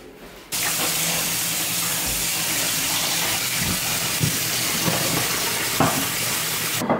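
Water runs from a kitchen tap during hand or produce washing, starting abruptly after a brief quiet moment and then streaming steadily and fairly loudly, with a few small knocks and splashes over it.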